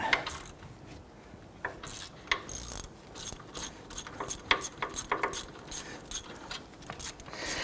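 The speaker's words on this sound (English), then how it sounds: "Actually, I'll go ahead and spin these out a little bit." Hub assembly bolts being spun out with a ratchet on a Nissan Frontier front wheel bearing job: close, quick repeated clicking and metallic ratcheting bursts with brief pauses, no talking.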